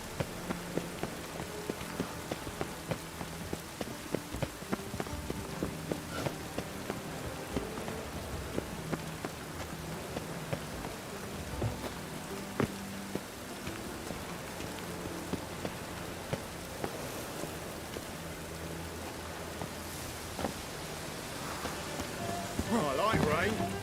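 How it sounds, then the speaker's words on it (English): Steady rain falls in the video game The Witcher 3, a continuous patter spread over the whole stretch, with scattered footsteps and hoof-like knocks and a voice talking over it. "I like rain."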